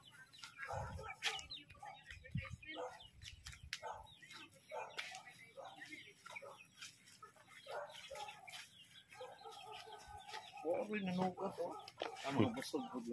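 Chickens cluck softly around a resort in Bohol, faint and scattered beneath people chatting nearby, with a louder burst of fowl calls near the end.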